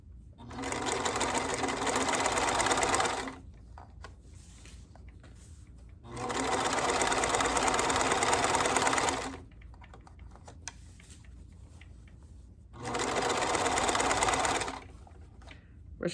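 Sewing machine stitching in a zipper for a cushion cover, three separate bursts of rapid, steady needle clatter, each lasting a few seconds, with quiet pauses between them as the fabric is turned.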